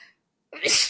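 A woman sneezes once during an indoor conversation about a jewelry business. A short silence comes first, then a sudden, loud, close, breathy burst that trails off quickly.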